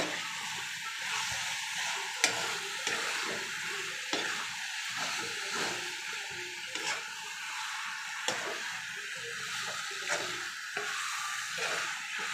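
Chicken pieces fry in a pan with a continuous sizzle while a utensil stirs them, adding irregular scraping and light clacks against the pan.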